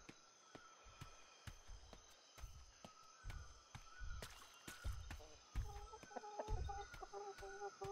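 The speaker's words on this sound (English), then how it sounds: "There's a chicken." Chicken clucks from the survival game Atlas on a tropical island, several short calls over ambient game noise with a tonal music-like backdrop and footstep-like thumps, no talk.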